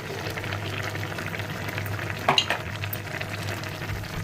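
A curry of spinach, eggplant, tomato and fish head cooks with a soft, steady bubbling sizzle, and a brief louder burst of spitting and stirring partway through. No one speaks.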